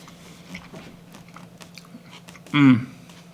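Someone eats cooked cusk fish with tartar sauce, with soft, quiet chewing close to the mic and one brief, louder bite or crunch near the end.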